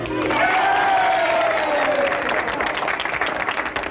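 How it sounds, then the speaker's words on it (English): Studio audience applause and cheering for Charlie Fink in a 1960s sitcom scene, a continuous roar of clapping with a rising vocal whoop near the start, sustained and fairly loud before easing slightly. "let's have a big hand for Charlie Fink"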